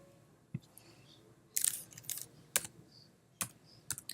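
Keys tapped on a computer keyboard while entering numbers into a software field: a few sparse, crisp clicks, with a quick cluster of keystrokes in the middle, close and alone against a quiet room.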